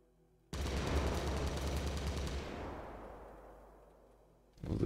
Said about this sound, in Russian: Посмотрим, как она стреляет.